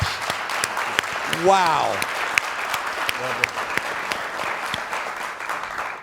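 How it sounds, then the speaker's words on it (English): Audience applauding a panel at a cannabis industry event, steady clapping from the crowd with a person speaking and exclaiming over it. "Can we give this incredible panel a huge round of applause?"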